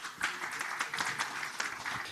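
An audience at a forum talk gives a speaker a brief round of applause, quiet and somewhat distant, with individual claps standing out in a loose patter.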